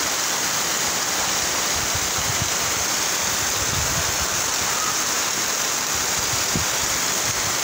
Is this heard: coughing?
no